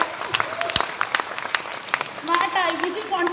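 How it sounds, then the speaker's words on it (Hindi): Audience at a business success event claps, brief scattered hand claps mixed with crowd chatter and voices talking over them, fairly close and uneven rather than a sustained ovation. "तालियां भी बजा सकते हैं।"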